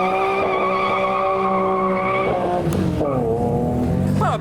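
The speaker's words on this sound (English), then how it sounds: "Don't often see wheel spins from one of those." A Honda NSX spins its wheels with a loud, sustained tire squeal and high engine whine, the pitch wavering and dropping briefly midway before rising again, close and alone.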